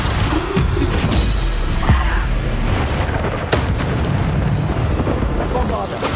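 Bombarda blasting spell exploding during Hogwarts Legacy combat: repeated heavy booms and bursts over a dense, loud wash of battle noise, with a sharp blast near the middle, all close and continuous for several seconds.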